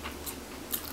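A dog chews a crunchy snack up close, with a few soft, crisp bites and mouth sounds over about a second.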